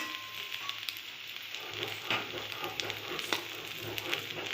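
Ivy gourd (kudri) frying in a pan, an even close sizzle with scattered crackles and scraping stirs throughout; no talking.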